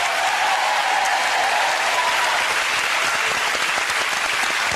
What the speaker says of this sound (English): give them a big round of applause, the Atkinsons.